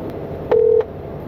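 A single steady telephone dialing tone sounds for about a third of a second over a low background hiss, clear and close, with no talk.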